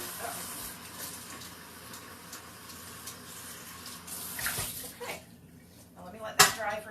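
Tap water running steadily over a baking dish as soap is rinsed off in a kitchen sink, a continuous close splashing hiss with soft clinks and a sharp knock near the end.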